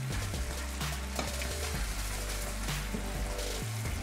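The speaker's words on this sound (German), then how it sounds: "Dann gebe ich meine Butter hinzu." Butter melts into a reduced cream sauce in a hot pan, giving a steady, close sizzle and bubbling frying sound with soft stirring scrapes, no voices.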